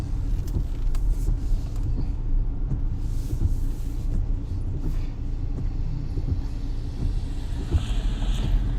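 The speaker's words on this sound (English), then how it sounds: "There's a couple cars coming by" A couple of cars pass on a country road strewn with pine cones, a low steady rumble of tires and engines building and fading at moderate distance, with no voices.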